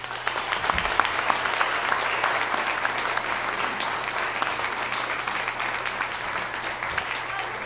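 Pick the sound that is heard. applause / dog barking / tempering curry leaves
applause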